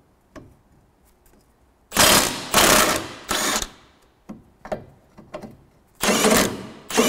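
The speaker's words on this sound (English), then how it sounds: "Spinning the ball joint there." Bursts of mechanical whirring as a ball joint on a BMW Mini Cooper S rear rally suspension is spun with a tool, several loud runs of about a second each separated by quieter clicks and handling noises, close by.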